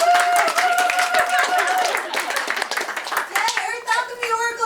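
An audience claps for the presenter at a plant alchemy and crystal oracle deck talk, scattered hand claps coming through over music, with a voice carrying on at the end.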